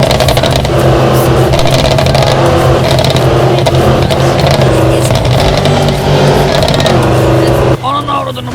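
A BMW car engine in a Euro Truck Simulator 2 mod revs loudly and steadily for about eight seconds with a dense, droning tone, then cuts off abruptly near the end.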